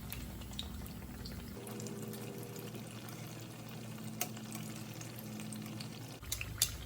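Tempeh slices coated in batter fry in hot oil, a steady, fairly quiet crackling sizzle with a low hum underneath and a few small clicks and taps near the end.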